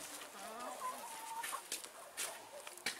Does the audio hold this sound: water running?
no